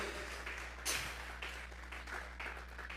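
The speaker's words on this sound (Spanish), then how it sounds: "Vamos a regalarle ofrendas de palmas al Dios de la gloria" A church congregation applauds at a service, a steady wash of clapping over a low hum, with a few louder swells along the way.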